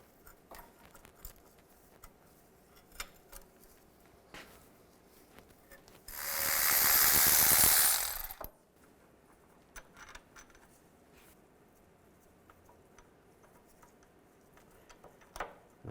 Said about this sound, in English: Use an 18mm socket or a wrench. Take these bolts, loosen them up, take them out.